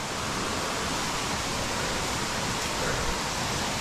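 A waterfall along a trail beyond a larger falls pours in a steady, dense broadband roar that fills the scene evenly and continuously, with no voices.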